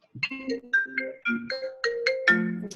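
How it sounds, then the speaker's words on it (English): Phone ringtone playing through a computer during an online meeting, a clear melodic sequence of bright electronic tones in quick succession, loud and alone. "My husband's phone rings through this computer."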